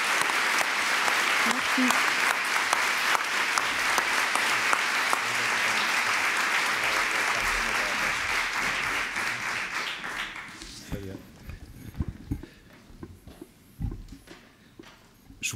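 Applause from a conference audience at the opening of a parenting colloquium, dense and sustained for about ten seconds before fading into a quiet room with a few scattered claps and a brief spoken word.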